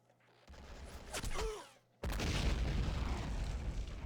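A tank's main gun fires at an anti-tank gun in Men of War, a heavy boom that cuts in abruptly after a quieter stretch of battlefield noise and rolls on as sustained loud rumble.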